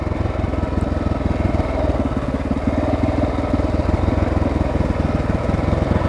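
A Honda XR600R dirt bike, fitted with a 13.2 sprocket for street-legal trail riding, runs steadily nearby with a loud, deep, even thumping single-cylinder beat.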